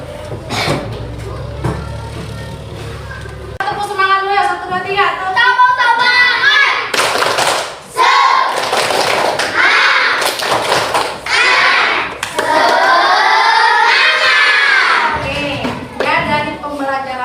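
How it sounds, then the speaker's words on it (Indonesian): A group of schoolchildren in a classroom lesson on organs of movement does a rhythmic spirit clap, loud tapping and clapping in bursts across the clip, mixed with children's voices and shouting. "Tepuk semangat dulu ya, 1, 2, 3."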